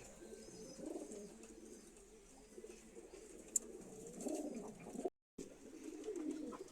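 Pigeons coo in low, throaty rolling phrases close by, repeating in clusters with a short gap of silence partway through.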